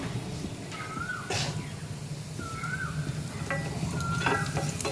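Potatoes being stirred with salt and turmeric in a pan: soft scraping strokes with a faint sizzle underneath, quiet and close, with a few light high chirps in the background.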